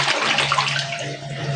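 Water runs steadily from a tap, filling a container at home to be heated for a bath, loud and close, a continuous rushing stream with no talking.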